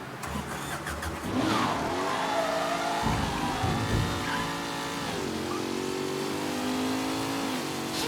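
A car in the video game Mafia III starts and revs, then the engine note climbs and falls as it accelerates and shifts through gears, loud and steady throughout with no talk.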